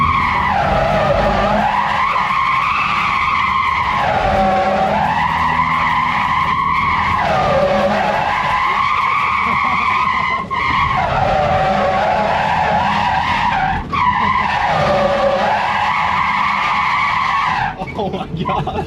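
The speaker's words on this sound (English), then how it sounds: "You just hear tire screech." Tires screech continuously as a car skids in circles on a skid pad, the squeal swelling and dipping in a steady wave-like rhythm, loud and close, with engine noise underneath.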